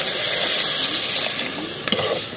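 Water poured into a cooking pot of browned meat and potatoes for curry, a loud continuous gushing close by, ending with a few light clinks and no speech.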